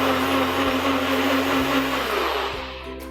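A blender grinding dates and vanilla extract into homemade vegan milk, a loud, close motor whir with a steady pitch that runs continuously before easing down near the end.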